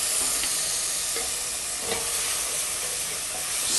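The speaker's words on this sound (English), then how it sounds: "Stirring that." Mango mojo sauce with lime juice and crushed red pepper sizzling in a pan while being stirred, a steady close hiss with a few soft utensil scrapes, no voices.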